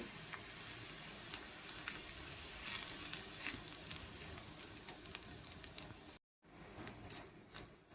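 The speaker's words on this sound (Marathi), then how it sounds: "आता थोडा गॅस बारीक करायचा कारण खोबरं बारीक केलेलं आहे ते करपू नये म्हणून थोडंसं बारीक करायचं आणि खोबरं भाजून घ्यायचं" Grated coconut dry-roasting in a pan over low gas gives a soft, steady sizzle with faint scraping stirs, continuing alone without talk and briefly dropping out near the end.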